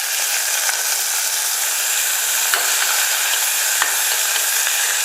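Small shallots sizzle and fry in hot oil with mustard seeds and garlic, giving a loud, steady crackling hiss dotted with occasional sharp pops. No voices are heard.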